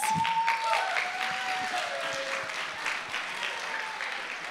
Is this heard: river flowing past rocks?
no